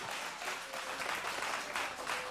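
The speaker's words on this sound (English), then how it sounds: "Clap again for that." Steady applause from a church congregation for a youth orchestra after a worship medley, a dense wash of many hands clapping at an even level with no break, a faint sustained tone running beneath.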